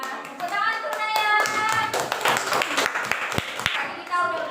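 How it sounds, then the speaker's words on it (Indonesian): A classroom of children claps for a classmate, an uneven patter of hand claps mixed with young voices chattering over it, fairly close and lively for a few seconds. "Tepuk tangan untuk Naya"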